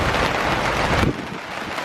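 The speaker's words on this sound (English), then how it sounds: "हाँ, बारिश हो रही है।" Rain falling outdoors on fresh wet soil, a dense loud hiss that drops abruptly to a softer patter about halfway through, with no voices.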